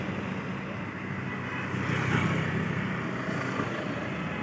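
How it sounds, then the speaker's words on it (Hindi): Cars approach along a road while pedestrians cross, a steady broadband traffic rumble holding throughout and swelling slightly midway as a vehicle passes nearby. "अभी गाड़ी आ रही है सब इधर से।"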